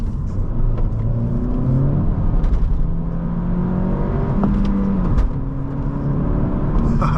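A 2019 Honda Civic Sport 1.5T with six-speed manual accelerating, engine tone climbing in rising sweeps with brief dips at gear changes, steady road rumble underneath from inside the cabin.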